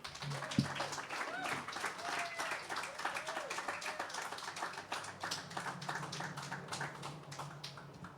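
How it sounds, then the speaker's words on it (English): Scattered applause from a small outdoor open mic audience on a street, fairly faint irregular clapping mixed with voices talking and background street sounds. "Another round of applause for Colleen Jones"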